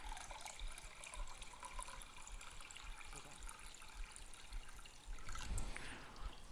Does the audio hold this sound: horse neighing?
no